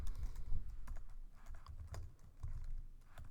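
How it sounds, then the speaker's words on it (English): Someone types on a computer keyboard while writing Java code: quiet, rapid, irregular clicking keystrokes that come in short bursts, close to the mic. "sorry about my typing"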